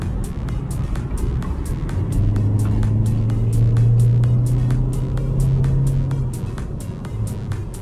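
A 2022 MG GT sedan accelerates to overtake, heard from inside the cabin as a steady, loud engine drone that rises in pitch and strength midway before settling, with a regular faint ticking throughout.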